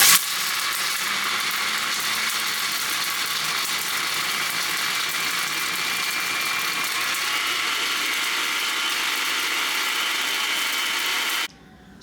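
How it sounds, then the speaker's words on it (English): An electric grinder jar whirs steadily as it pulverizes whole spices for galouti kebab, a loud continuous buzzing roar with a rattling edge that runs for about eleven seconds and then cuts off abruptly. "So let's grind them up now."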